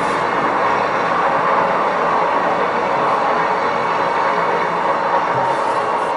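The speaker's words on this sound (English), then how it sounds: "you will hear the train now passing by" A train passing by on a Saturday, a steady broadband rumble and rolling wheel noise that stays close and even throughout, with no talk over it.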